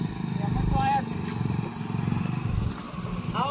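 A motorcycle engine chugs nearby as the bike arrives, a low rumbling putter with some clatter, while people talk over it.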